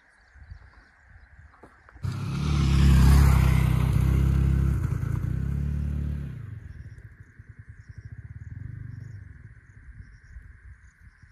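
Yamaha R15 motorcycle labouring up a steep village hill road, its engine suddenly bursting into a loud strained roar for a few seconds, then easing to a lower rumble that swells again before fading.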